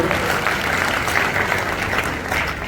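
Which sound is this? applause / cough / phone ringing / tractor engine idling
applause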